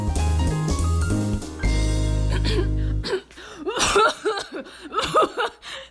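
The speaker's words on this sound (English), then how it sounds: "COVID cough." A person gives a COVID-style cough, a few sharp bursts mixed with breathy sounds, right after a stretch of loud music.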